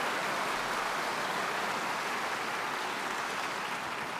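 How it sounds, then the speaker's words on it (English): An audience at a university State of the University address applauds steadily and loudly throughout, a dense, even wash of clapping with no breaks. "And yes, it's okay to applaud."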